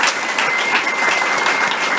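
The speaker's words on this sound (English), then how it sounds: "Let's have a round of applause for all our stars." Sustained applause from an audience at a library's Night of 1,000 Stars celebration, steady dense clapping at even loudness across the whole stretch, with no voices over it.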